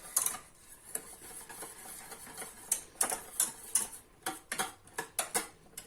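A spoon clicks and taps against a pot while hot milk chocolate and butter are stirred until melted, a series of sharp, irregular close ticks over a quiet background.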